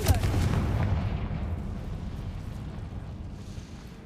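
A Confringo spell blasts in the video game Hogwarts Legacy, a heavy booming explosion that hits hard at the start and then rumbles and fades over a few seconds, with no talking.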